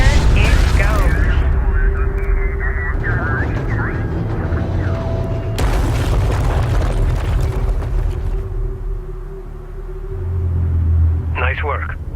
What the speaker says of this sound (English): Pull back to a safe distance and initiate detonation.